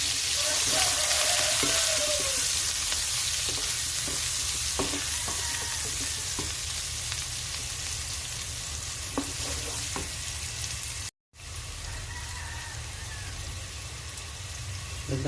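Garlic and onion sizzling in a pan with oil for mung bean soup, a loud, continuous frying hiss broken by occasional spatula scrapes and a brief cut near the end.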